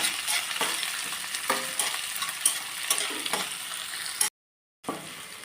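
Onions frying in a pan for Maggi noodles give a steady close sizzle broken by repeated scraping stirs, then a half-second break in sound before the sizzle returns.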